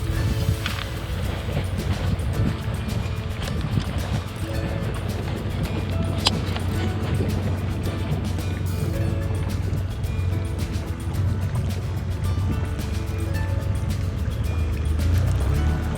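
An outboard motorboat engine drones steadily on subtropical waters, a low continuous rumble mixed with splashing and rushing water against the hull, loud and close throughout with no clear speech.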